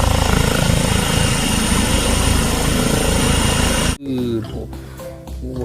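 A toy helicopter gives a loud, steady whirring rotor-like drone for about four seconds, then cuts off abruptly, and a voice speaks over quieter background noise.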